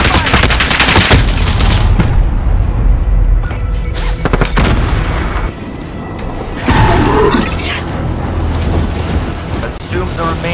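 Heavy grenade blast and rapid gunfire from a Call of Duty zombie royale match, loud and dense, with booming explosions and bursts of shots rolling across the whole stretch, briefly easing before another loud barrage.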